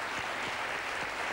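Studio audience applause at the close of a French paranormal-themed television programme, a steady dense wash of clapping throughout the short stretch with no voices over it.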